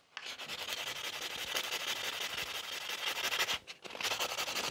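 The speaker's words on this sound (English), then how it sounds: "now I can start buffing my nail" Steady rubbing and scraping of a buffer against a sculpted fiber gel stiletto nail, close and continuous with even back-and-forth strokes and one short pause near the end.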